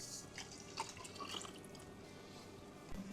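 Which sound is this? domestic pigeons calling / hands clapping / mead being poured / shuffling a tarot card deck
mead being poured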